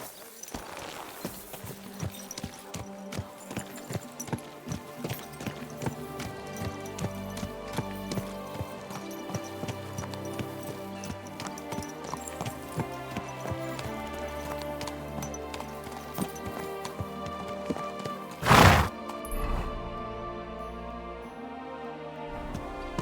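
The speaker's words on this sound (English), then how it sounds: "Easy. Good horse." In the video game Kingdom Come: Deliverance II, steady clip-clop of horse hooves walks along for a long stretch, joined by rhythmic clatter and a brief loud burst near the end.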